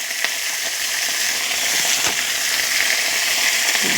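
Vegetables fry in a pan with cumin paste and turmeric, giving a steady, loud hiss and sizzle throughout while being stirred, with a few soft scraping ticks.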